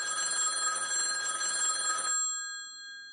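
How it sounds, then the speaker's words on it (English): A telephone bell rings continuously indoors for about two seconds, bright and steady, then stops and leaves a fading ring-out tail. "then the phone rang"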